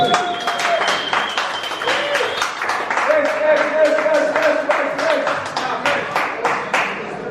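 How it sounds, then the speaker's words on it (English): An audience at a homebrewing talk on re-using yeast claps steadily for several seconds, with distinct hand claps close by and some speech mixed in. "We need a round of applause."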